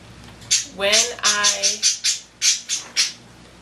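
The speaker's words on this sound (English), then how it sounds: "that's my bird." A pet bird gives a run of loud, sharp squawks close by indoors, about eight harsh calls in quick succession with a person talking softly around them.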